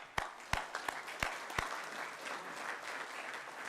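A wastewater-community gathering applauds its volunteers: a few sharp, close claps ring out in an irregular rhythm over a softer, steady background of crowd clapping.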